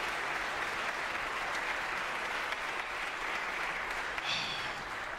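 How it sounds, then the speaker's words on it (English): An audience at a Candlelight Concert gives the Department of Music a round of applause, a continuous even wash of clapping heard from a distance at a fairly soft level. "Can we just give the Department of Music another big round of applause and a thank you?"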